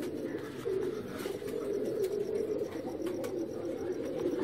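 Low, continuous cooing of Ferozpuri and Teddy pigeons, a soft murmuring drone with faint background noise and no talking.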